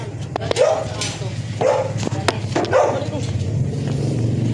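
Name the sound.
dog barking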